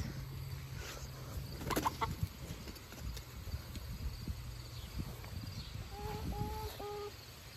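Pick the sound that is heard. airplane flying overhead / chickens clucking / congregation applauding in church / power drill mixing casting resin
chickens clucking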